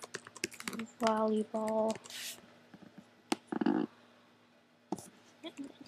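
Typing on a Mac computer keyboard: clusters of quick key clicks, close and moderately loud, interrupted by a spoken word and other short bursts of activity.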